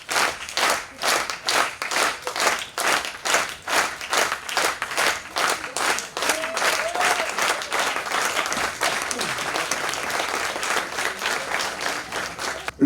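An audience breaks into applause at a live comedy show, opening with loud rhythmic unison clapping that then dissolves into a dense, steady wash of scattered clapping.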